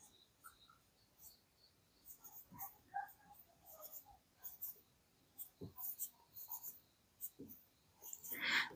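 Pen scratching on paper while a maths problem is written out, soft intermittent strokes in short bursts, close and faint, with a few light taps and rustles.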